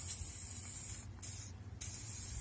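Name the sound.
spraying WD-40 into truck door hinges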